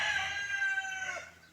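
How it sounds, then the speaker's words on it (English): A rooster crows once, loud and clear at close range, its call tailing off at the end with no one talking. "That rooster just loves being on video."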